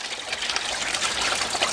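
Water flowing steadily through a garden pond filter system, a constant close trickling and splashing rush without pause or voices.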